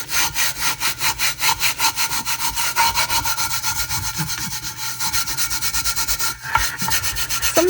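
A custom resin tumbler rubbed down by hand, a rhythmic, close scraping rasp with steady back-and-forth strokes repeating evenly throughout, no voices.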